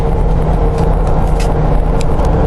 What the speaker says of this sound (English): The LS really kicks you in the back when you throttle it